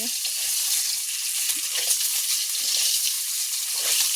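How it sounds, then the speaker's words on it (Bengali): Close, loud sizzling of eggs frying in a pan, a bright continuous crackle with small pops, steady throughout. "আমি চলে আসছি ডিম ভাজার জন্য ডিম ভাজছি"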